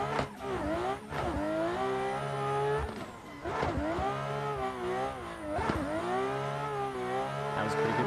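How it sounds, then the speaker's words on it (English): A racing car in a sim game revs hard through repeated gear changes, and its exhaust crackles and pops between the climbing engine notes, with tires squealing now and then. "This thing is bangs and pops"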